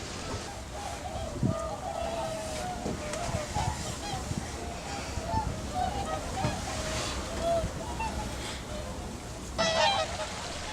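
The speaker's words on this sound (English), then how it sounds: "Due to the loud commotion created by the ducks" Ducks honk and quack in a noisy, overlapping commotion on the water near whooper swans. The calls keep coming at moderate distance over lapping water, and a louder burst sounds near the end.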